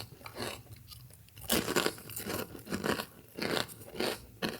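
A fortune cookie is bitten and chewed close to the mic in a quiet room, producing a series of sharp, dry crunches in irregular bursts with quieter pauses between them.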